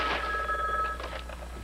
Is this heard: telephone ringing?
yes